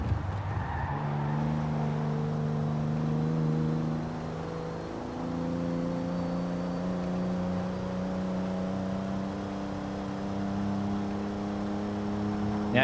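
Engine of Japan's first supercar in Forza Horizon 4, a steady droning hum that holds its pitch and then rises gradually, close and continuous with no talk over it.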